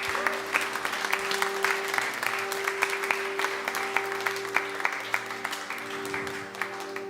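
A church congregation at a Sunday morning service claps steadily and loudly in continuous applause, with a few faint cheers mixed into the sustained clapping.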